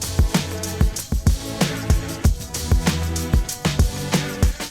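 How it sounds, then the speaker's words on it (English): Hip hop drum breaks pound through a song recreation, steady kick and snare hits over sustained low tones and a simple 808 hi-hat pattern, loud and rhythmic. "The next thing to come in are some breaks."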